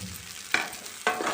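Mustard seeds, cumin and curry leaves frying in oil for tamarind chutney, a soft close sizzle with two sharp crackling bursts about half a second apart.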